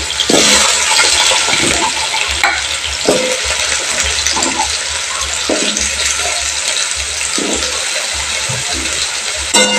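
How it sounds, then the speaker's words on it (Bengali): Diced potatoes added to hot oil with whole cumin sizzle loudly in a wok, a continuous bright hiss with repeated stirring scrapes and knocks at a steady rhythm. "ডুমো ডুমো করে কেটে রাখা আলুগুলো আমি তেলের মধ্যে অ্যাড করে দিচ্ছি।"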